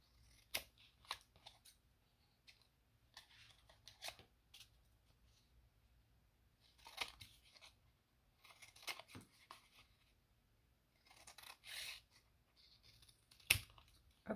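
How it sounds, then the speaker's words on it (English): Scissors snip through extra fabric material while trimming a Paris-themed junk journal tag, giving faint, close, irregular clusters of crisp cuts and rustles separated by quiet pauses. "I'm going to take my scissors and I'm going to cut off the extra material"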